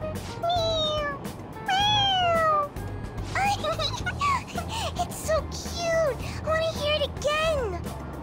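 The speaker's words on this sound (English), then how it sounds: "It meows when you press on its head." A toy cat in Persona 5 Royal gives a series of high, sliding meows each time its head is pressed, repeated several times over a low background hum, with voices speaking between the meows.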